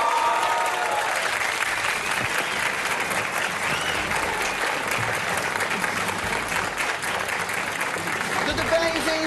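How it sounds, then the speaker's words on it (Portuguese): A television studio audience at a Brazilian comedy show applauds and cheers steadily for Darth Vader and Luke Skywalker as they enter, a dense, even wash of clapping that holds for the whole stretch. "Por favor, uma salva de palmas para Darth Vader e Luke Skywalker."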